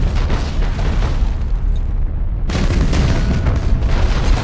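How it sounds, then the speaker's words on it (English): Spaceship weapons fire and heavy explosions from the game Battlefleet Gothic: Armada make dense, loud booming bursts. They break off briefly, then a fresh wave of rumbling blasts returns. "Fire all weapons. Lock on target."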